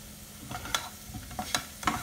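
Potatoes with a dollop of ghee are stirred in a pan, giving a soft sizzle with a few sharp clinks and scrapes of the spoon, fairly quiet and close.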